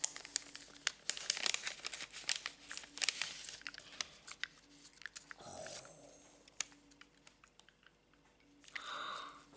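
A parcel sealed with masking tape is opened gently, giving close, quiet crinkling and crackling of packaging in bursts of small rustles and tearing sounds, with no talk.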